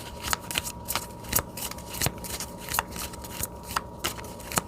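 Tarot cards are shuffled by hand, a rapid run of soft, crisp riffling flicks close by with no talking.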